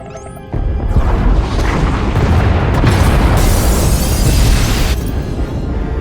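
Escape pod bays blowing up in Star Wars: The Old Republic, a sudden loud explosion erupting after a brief lead-in and rolling on as a heavy roaring, crackling blast for several seconds.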